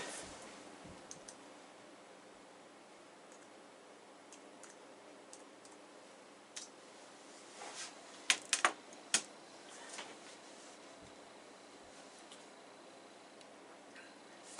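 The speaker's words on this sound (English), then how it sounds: "Okay, I gotta type in my password." Quiet keystrokes on an iMac keyboard tap out a password as scattered soft clicks over a faint room hiss, with a brief cluster of sharper taps midway and no talking.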